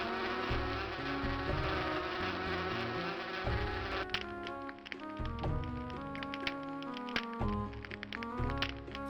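Bees buzz in the video game Inherit the Earth: Quest for the Orb, a continuous insect drone layered with tonal game music and light tapping sounds throughout.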